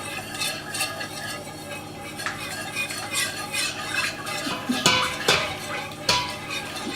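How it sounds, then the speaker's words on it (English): Cheese mixture for baked macaroni and cheese being stirred in a big pot, with spoon scrapes and clanks against the metal repeating steadily, close and fairly loud, and a louder knock near the end. "but I can stir my bigger pot. This is gonna be my cheese mixture."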